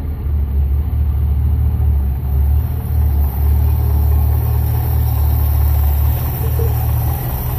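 Warm International Travelall engine idling at about 600 rpm, a loud, steady low rumble close by, smooth and unchanging, with no talking.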